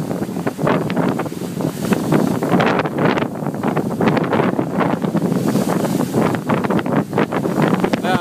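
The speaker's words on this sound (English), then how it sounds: "we are going straight into the wind here, as tight as we can, and into the waves" Wind buffets the microphone as a sailing yacht beats close-hauled into the wind and waves at sea between Lanzarote and Madeira, loud gusting roar with repeated surges of water rushing against the hull.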